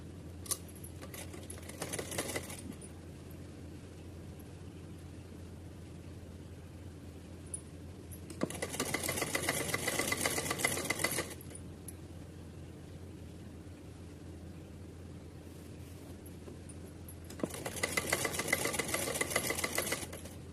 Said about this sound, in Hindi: इस पर एक सीधी सिलाई लगाते हुए पूरा कंप्लीट करते हैं